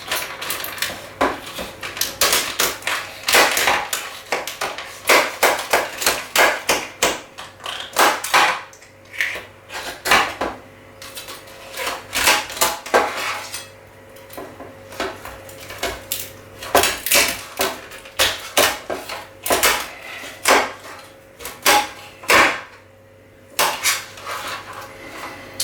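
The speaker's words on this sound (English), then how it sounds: "Plunge in with the knife" A knife splits a whole lobster: repeated cracking, crunching blows and clattering on a hard board or dish, in irregular bursts with brief pauses between.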